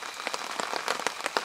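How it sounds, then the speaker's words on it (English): Rain falling on a tarp shelter over a hammock camp during a thunderstorm, a close, steady patter of drops striking the fabric with irregular sharper taps. "But it's still raining."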